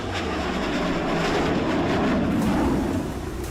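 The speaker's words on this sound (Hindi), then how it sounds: "जेट इंजन की दहाड़ सुनिए। इस गड़गड़ाहट के साथ दोनों मिराज टेक ऑफ करते हैं" Two Mirage 2000 fighter jets taking off, their engines producing a loud, continuous broadband roar that swells slightly and holds steady throughout, with no talk.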